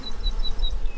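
Bees buzzing steadily at a distance around flowering plants, a soft continuous insect drone with faint whining tones drifting in and out over a low hum.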